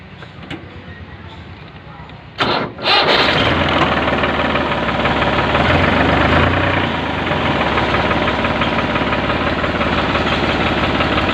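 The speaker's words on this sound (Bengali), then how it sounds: "ভিডিও শেষে গাড়ির স্টার্ট সাউন্ডটা শোনায় দেওয়া হবে" A car engine, offered for sale in Jashore, cranks briefly and catches, then idles loudly and steadily up close for several seconds.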